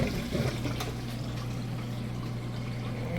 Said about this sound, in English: It's draining that water out nice and fast.